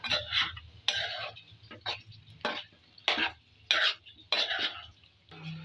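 A spoon stirs palak aloo salan in a pot as garam masala is mixed in, giving repeated rhythmic scrapes and clinks against the metal over a faint simmer, loud and close.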